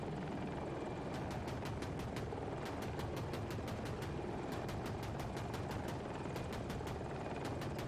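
Rotor of a Ka-52 Hokum attack helicopter in a video game, a loud continuous engine roar with rapid rhythmic blade chopping that pulses steadily throughout and never lets up.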